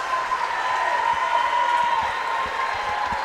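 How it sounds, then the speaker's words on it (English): Applause from a stadium crowd at a high school basketball game against Gordonsville, a steady, dense roar of clapping that holds at an even level for the whole stretch. "there's definitely a round of applause all across the stadium from even Gordonsville's very own crowd"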